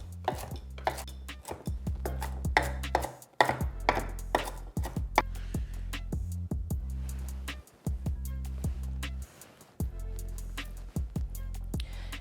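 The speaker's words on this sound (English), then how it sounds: "You can turn it and then give it a chop again." A knife chops cabbage on a cutting board in quick repeated strikes, a steady rhythm of sharp close thuds with brief pauses as the cabbage is turned.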